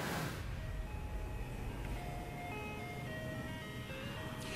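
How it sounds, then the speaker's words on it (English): Ice cream truck on the National Mall in Washington at sunset, its tinkling chime melody playing steadily at a distance over a low outdoor rumble. "if you listen carefully, you can hear an ice cream truck in the background serving the needs of the joggers on this mall"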